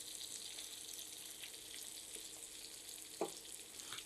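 Chicken liver kabab fries in a pan with a steady, soft sizzle and crackle that runs throughout, a single sharper pop near the end, with no voices.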